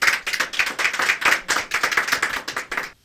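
Studio audience claps in a lively, rhythmic burst during a 2012 Romanian Christmas TV broadcast, the claps dense and close, fading out abruptly at the end.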